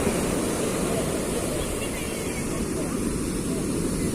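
Ocean surf rolls in at Uchila beach as a continuous broad roar of breaking waves and wind, steady and fairly loud with no distinct pauses.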